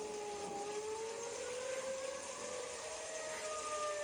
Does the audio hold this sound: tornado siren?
yes